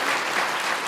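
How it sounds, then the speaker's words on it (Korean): Church congregation applauding a choir soprano, a brief, dense, even burst of clapping with no voices on top. "잠깐 일어나면 좀 박수로 격려해 주시기 바랍니다."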